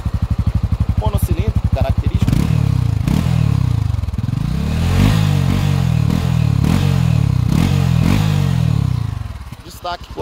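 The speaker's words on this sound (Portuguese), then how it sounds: "E o ronco." A Honda Sahara 300 motorcycle idles with a fast, even thump, then is blipped through a series of short throttle revs that rise and fall in regular pulses, close and loud, with mechanical clatter.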